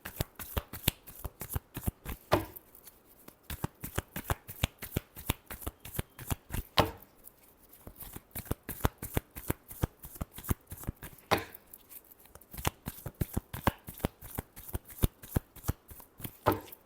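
Tarot cards being shuffled by hand, a long run of quick, crisp riffling flutters close up, repeated in bursts with brief pauses between rounds.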